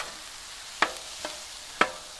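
Beef and shrimp stir fry with cauliflower rice, spinach and mushrooms being mixed on a gas griddle: three sharp metal spatula scrapes and clinks over a faint, steady sizzle.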